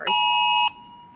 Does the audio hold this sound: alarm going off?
yes